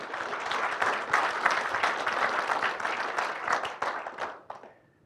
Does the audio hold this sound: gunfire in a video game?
no